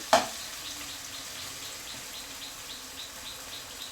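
Sliced onions frying in hot oil toward crispy beresta, a steady soft sizzle that carries on evenly throughout after one brief clink at the start, fairly quiet and close.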